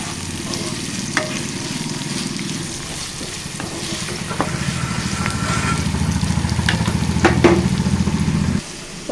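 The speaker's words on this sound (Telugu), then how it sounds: "ఉల్లిపాయ ముక్కలు వేసేసానండి. కలుపుకోవాలి." Chopped onion sizzles and crackles steadily in a hot pan over a medium gas flame, with occasional scraping stirs, loud and close, before cutting off near the end.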